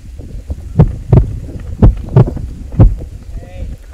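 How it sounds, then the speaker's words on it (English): Gusty wind buffets the microphone on a golf course in a series of low, rumbling thumps, with some faint talk underneath. "there's a lot of wind here today"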